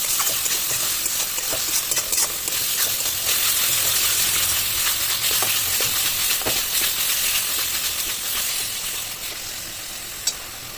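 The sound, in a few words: stir-frying chicken kosha spice paste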